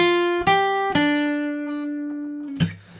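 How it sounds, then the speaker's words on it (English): Several clean, sustained electric guitar notes are plucked, each ringing out and fading before the next, ending on a sharper struck note. "There is an electric guitar part in the middle of it that sounds like this."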